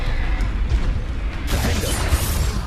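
A Confringo spell blast going off in Hogwarts Legacy, a sudden bright burst midway through that rises over a dense, rumbling game soundscape and hangs on as a crackling, whooshing spread of noise.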